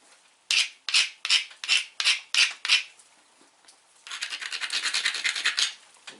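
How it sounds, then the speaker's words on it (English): A grinding stone abrades the edge of a Georgetown flint biface: seven close, sharp rasping strokes in steady rhythm, then a brief pause and a longer burst of rapid continuous scrubbing. "I love this grinder."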